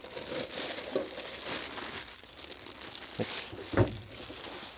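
A VEVOR ultrasonic cleaner's tank is unpacked, with close, crinkly rustling of plastic and paper packaging and a couple of sharper crackles and a thump as it is pulled free.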